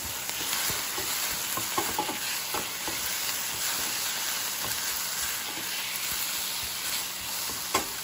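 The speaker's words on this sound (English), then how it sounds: "I'm just going to add my pineapples right in the pot as well. And I'm just going to mix that in." Pineapple chunks, onions and bell peppers are stirred in a pot, giving a steady close sizzle broken by repeated scraping and clinking of the spoon, with no talking.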